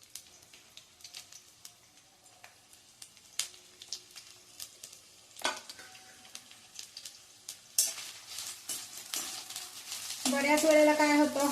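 Two medium onions, sliced lengthwise, go into hot oil. Faint scattered crackles swell into a louder, fuller sizzle partway through, and tonal music comes in at the end.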